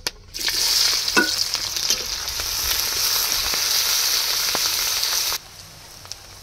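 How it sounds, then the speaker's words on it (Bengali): Chopped onions with whole garam masala sizzle in hot oil, a loud steady frying hiss with scraping stirs. It begins with a sharp burst and cuts off abruptly near the end, leaving a quiet kitchen background. "তেলের মধ্যে দিয়ে দেবো গোটা গরম মশলা, পেঁয়াজ কুচি দিয়ে পেঁয়াজগুলো লাল লাল করে ভেজে নেব।"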